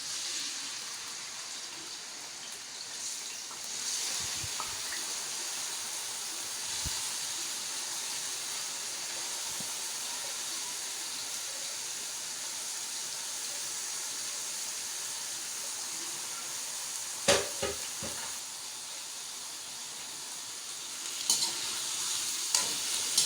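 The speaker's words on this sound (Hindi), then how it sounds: "अब जब ये ऑयल गर्म हो गया है तो इसमें हम ये सारी अरवी डाल के पहले अरवी को फ्राई कर लेंगे।" Pieces of taro (arvi) frying in hot mustard oil, a continuous soft sizzle and bubble with occasional louder stirring clatters from a spoon against the pan.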